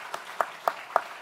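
Four distinct claps at a church service, evenly spaced and fairly faint, like a single pair of hands applauding briefly.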